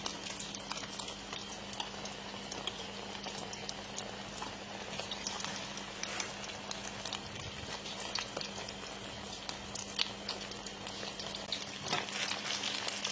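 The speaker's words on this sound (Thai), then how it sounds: "ต้องอดทนรอนะคะทอดเหลืองเลย" Food frying in hot oil until golden, a steady close sizzle and bubbling crackle that holds evenly throughout with no talking.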